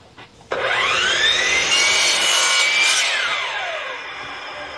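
A saw rasps through wood baseboard while making a 45-degree open bevel cut in finish carpentry, a loud steady cutting sound lasting several seconds before fading as the blade finishes.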